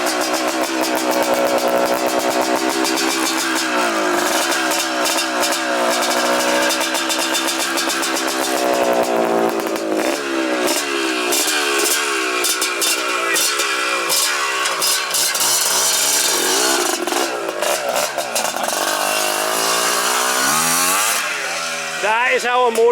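A motocross motorcycle engine, shown at a vintage motorcycle show, revs hard and loud close by in a buzzing, rising and falling drone that rarely lets up, with people talking in the background.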